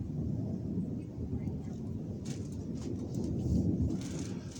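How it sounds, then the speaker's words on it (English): Deep thunder rumbles low and continuous over Toronto, a far-off rolling drone with no rain. Faint higher sounds flicker over it in the second half. "these very strange thunder sounds in the skies above Toronto"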